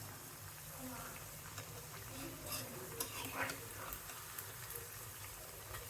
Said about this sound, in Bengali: আর পেঁয়াজও হচ্ছে এদিকে।